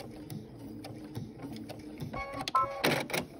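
A sewing machine stitches fabric for a triangle table runner in short close mechanical runs with a whirring buzz, ending in a louder burst as it backstitches.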